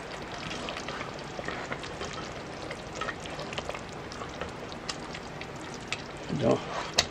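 Spaghetti and meat sauce cooked in a Presto electric kettle is stirred, giving soft sizzling and wet scraping of a utensil against the pot, fairly quiet, with a louder slosh near the end.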